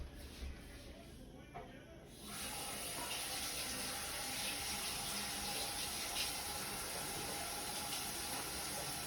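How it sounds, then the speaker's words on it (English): A kitchen tap is turned on for hand washing, and after a quieter opening a steady, hissing stream of running water fills the rest, close and continuous. "I'm gonna wash my hands."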